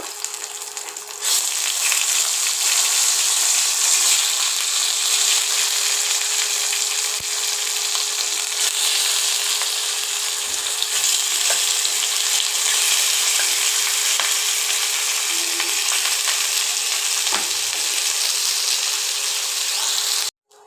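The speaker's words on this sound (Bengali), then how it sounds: "আলু সেদ্ধ করে নিয়েছি, আলুগুলোকে একটু ভেজে নেব" Boiled potatoes fry in hot oil in a pan, giving a steady broad sizzle that runs continuously and fairly loud, with a few faint clinks and no talk.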